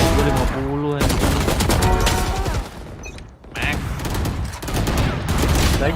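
Rapid automatic gunfire bursts from the video game Valorant during a tournament final, loud and rattling in close volleys with a brief lull midway, as excited voices talk over it.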